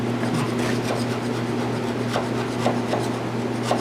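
A metal surface is scraped by hand in a workshop, giving repeated short rasping strokes at a steady rhythm over a constant low electrical hum, close and moderately loud.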